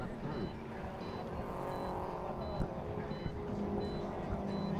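Subaru Legacy 2000cc one-make race cars circulate a track, engines humming steadily at a distance with faint whining tones, while commentators talk over the racing.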